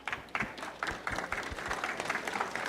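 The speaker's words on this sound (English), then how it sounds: "Big applause for you." Audience applause at a headache medicine award ceremony in Brazil as a neurologist is called to the stage, a steady crowd clapping with sharp individual claps standing out, moderately loud throughout.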